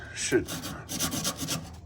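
Soft rhythmic scratchy rubbing of a sanding pad on a 1952 Dodge Wayfarer, a few quick back-and-forth strokes close by, fairly quiet.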